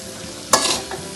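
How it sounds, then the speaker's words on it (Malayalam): Onions sautéing with salt in a pan, stirred with a sudden close scrape that brings a bright burst of sizzle, then a second lighter stroke, loud and alone without talk. "ഇത് നന്നായി ഒന്ന് ഇളക്കി ഇത് വാടാൻ പറ്റും."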